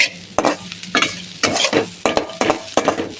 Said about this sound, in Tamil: நல்லா பொன்னிறமாக வறுத்துக்கணும் நல்லா பொன்னிறமாக கிண்டிக்குவோம்